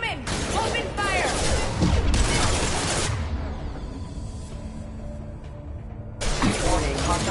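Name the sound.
gunfire in the video game Mass Effect 2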